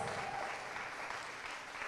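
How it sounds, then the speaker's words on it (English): Steady applause from an audience at a Hispanic Chamber celebration held at Orlando International Airport, a dense even patter of many hands lasting a couple of seconds at moderate distance, fairly quiet overall. "So give her a big round of applause."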